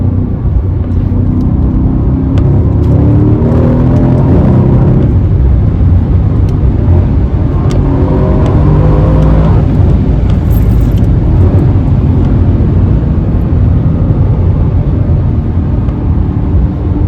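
Mercedes C63 AMG engine at full throttle on country lanes, a loud, close, continuous deep roar that climbs and swells through the revs for the whole stretch, with no talking.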